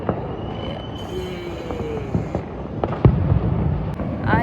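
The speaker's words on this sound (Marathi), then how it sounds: "इंडिया जिंकल्यानंतरचं सेलिब्रेशन सगळीकडे फटाके वाजत आहे." Firecrackers bursting in a celebration after an India win, with sharp scattered bangs and cracks from various distances over a continuous outdoor rumble and a faint whistling streak.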